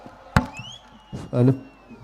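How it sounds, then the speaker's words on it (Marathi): A wrestler smashes a coconut to launch an election campaign at a rally in Miraj: one sharp, loud crack rings out, followed by crowd noise and a voice at the rally. "पैलवान आपल्या सर्वांच्या उपस्थितीमध्ये नारळ फोडतोय"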